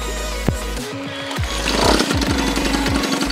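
An old French moped fitted with a new breaker-point ignition kicks over and fires up, a few sputters and rising revs, then settling into a steady, close two-stroke idle.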